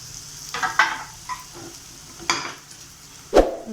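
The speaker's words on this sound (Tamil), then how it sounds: "நம்ம தட்டி வச்சுட்டு நம்ம நெய் ஊற்றி பொரிச்சிக்கலாம்" Banana sweet pieces dropped into hot ghee for a light roast, with soft crackling sizzle and several short scraping, clinking bursts of a spoon against the pan.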